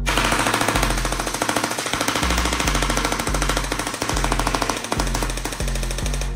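A Sijun MP5K blowback toy gun fires in a continuous automatic burst of rapid, evenly spaced mechanical clacks. The shots are loud and close, run steadily for several seconds, and no one speaks.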